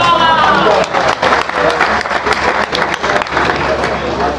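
A crowd claps in dense, steady applause at a Pakistan Peoples Party rally in Kasur celebrating Benazir Bhutto's birthday, loud and continuous, with a voice faintly audible early on.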